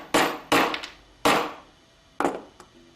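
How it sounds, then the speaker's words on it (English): Hammer smacking lead wire into a square brass tube socket, four sharp metallic blows with short ringing decays, spaced unevenly and close up. "the way to stop that from happening is to just smack it a few times with the hammer"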